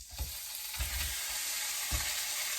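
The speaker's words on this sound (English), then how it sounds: "We're just gonna chuck that in our frying pan until it's nice and brown." Diced pork loin chunks fry in a frying pan with a steady, dense sizzle throughout, broken by a few soft low knocks as the pieces are stirred.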